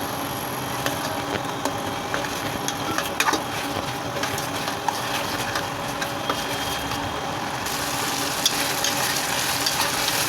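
Spatula stirring cumin powder, green chilies and spices in a hot pan while cooking lotta fish curry, a steady close sizzle and fry with scraping movements throughout, no talking.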